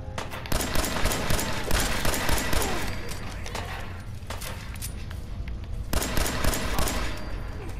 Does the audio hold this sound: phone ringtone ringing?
no